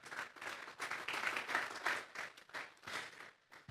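A church congregation claps together, a sustained, fairly faint roll of applause with uneven swells that fades out near the end.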